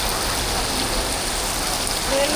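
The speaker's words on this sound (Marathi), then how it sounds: "जबरदस्त अशी पावसाची संध्याकाळ झाली आहे ना, आणि धबा धबा कोसळतोय." Heavy evening rain pours onto a street in Thane, a loud, constant wash of hissing downpour that fills the whole moment with no break.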